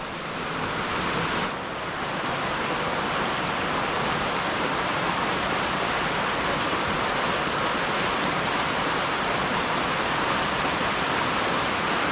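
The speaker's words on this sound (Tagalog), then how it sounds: "hindi naman tayo makapag-ubra sa labas lakas ng ulan" Heavy rain pours down steadily outside a building in a lanzones-growing area, a loud, dense, unbroken hiss with no pauses across the whole stretch.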